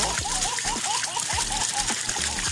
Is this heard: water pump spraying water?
yes